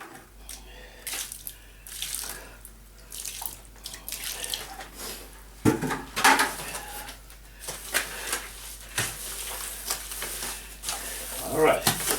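Mortar being mixed with water for bricklaying, wet scraping and sloshing strokes come in uneven bursts, close and fairly loud, with pauses between them.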